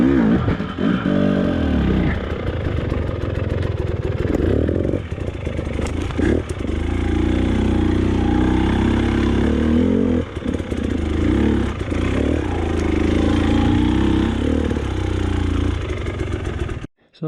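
Enduro motorcycle engine revving hard and steadily while climbing an off-camber slope over roots, a loud, continuous close-up drone with constant throttle swells and brief dips for nearly the whole stretch before cutting off at the end.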